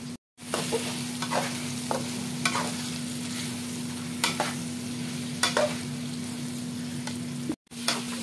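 Egg added to an ampalaya dish with tuna in a hot pan, sizzling and frying steadily while a spatula stirs and scrapes with repeated clicks, close by, with a brief break partway through.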